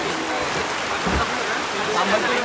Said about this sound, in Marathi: आला रात्रीच्या वाजल्यात अडीच आणि पावसाने थैमान घातला